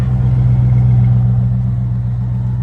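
A classic car engine idles steadily nearby, a loud, even low rumble with a faint rhythmic throb and no revving, heard alone without talk.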